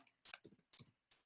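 A few quick taps on a computer keyboard, close and quiet, in short clustered bursts with brief gaps between, alone without any talking.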